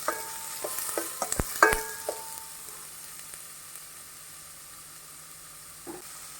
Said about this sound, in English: You have to saute the onion well.